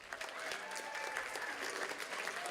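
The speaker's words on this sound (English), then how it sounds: "Can we give a round of applause to the math team again?" Sustained audience applause at a poetry slam, a dense continuous patter of many hands with a few cheers and whoops over it, steady and fairly loud throughout.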